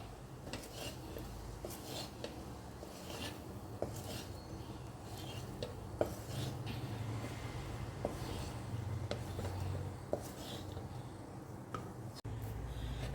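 Lemon juice being stirred into a bowl of paneer and chicken rice, with a spoon clinking and scraping against the dish in soft, irregular taps, close and quiet with low background hum.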